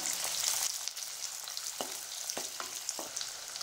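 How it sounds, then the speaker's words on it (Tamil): Steady sizzling of onions and garlic sautéing in a hot pan for pepper kuzhambu, with a few sharp stirring clicks and scrapes, close and continuous. "இதையும் சேர்த்து நல்லா வதக்கி விட்டுக்கலாம்"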